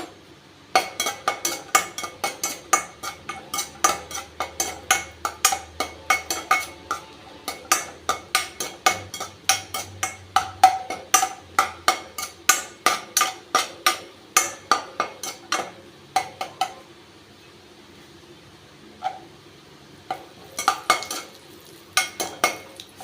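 Cashew pieces being stirred as they roast over low heat in a pan: a steady run of sharp, close scraping taps from the spoon against the metal, coming in quick rhythmic strokes with brief pauses.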